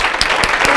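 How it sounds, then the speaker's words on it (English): A crowd applauds at a speech contest, a dense, steady clatter of many hands clapping close by, with a few sharper claps standing out. "giving him a big round of applause"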